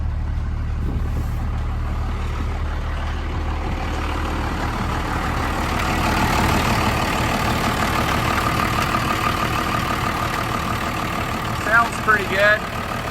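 A 1937 GMC truck engine idles with one fan blade broken off, giving a steady low rumble close by that swells slightly midway, with brief chirps near the end.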